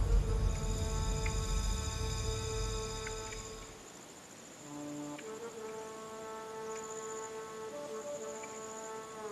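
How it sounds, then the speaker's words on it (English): A battle trumpet sounding at night: long, sustained brassy notes that hold steady, break off and return at a new pitch, fairly faint and alone over a soft background hum. "That's the sound of the battle trumpet."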